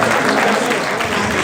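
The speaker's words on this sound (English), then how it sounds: "Let's give another round of applause." Audience applause at a dental college opening ceremony, a dense, loud, continuous round of clapping filling the hall.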